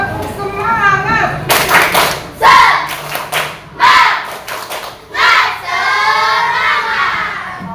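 Schoolchildren in a classroom perform a rhythmic spirit clapping routine, bursts of loud group claps in patterned sets alternating with chanting and shouted voices, all close and energetic.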